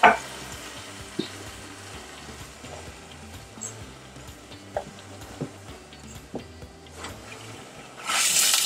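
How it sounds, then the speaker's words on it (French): Cameroonian spinach sauce simmers in a pot with soft bubbling and occasional spoon clicks. Near the end, half a cup of water poured in brings a sudden loud hissing surge. "j'ajoute juste la moitié d'une tasse d'eau"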